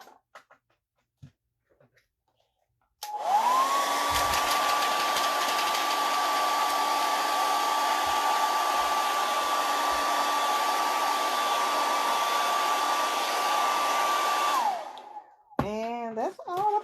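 A hair dryer drying a paper craft project, switching on with a rising whine, blowing as a loud steady roar for about twelve seconds, then cutting off, with a few faint handling taps before and a voice after.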